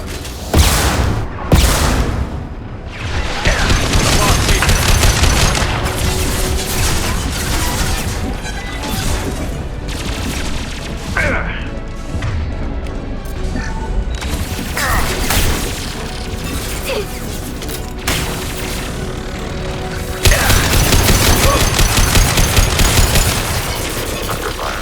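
An overridden turret fires in Mass Effect 2, heard as loud, sustained bursts of automatic gunfire mixed with booms and battle noise throughout.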